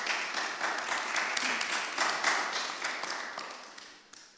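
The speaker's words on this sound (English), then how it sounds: "Let's run a round of applause for our amazing panelists." Audience applause for panelists at a music industry panel on NFTs, a modest round of clapping at moderate distance that gradually thins out.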